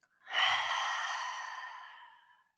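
A long, forceful breath pushed out through an open mouth with the tongue out during yoga practice. It is close and breathy, swells quickly, then slowly fades over about two seconds.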